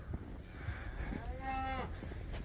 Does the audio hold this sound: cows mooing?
yes